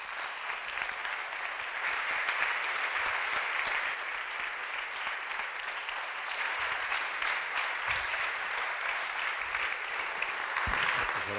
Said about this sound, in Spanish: Por favor, un aplauso para el gran Leonardo Padura.